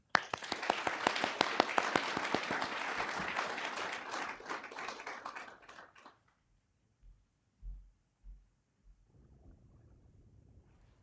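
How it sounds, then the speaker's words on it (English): An audience at a university speech showcase gives a round of applause for a student speaker, dense clapping that fades out after about six seconds, followed by a few faint thumps and low room noise. "A big round of applause for Bryson."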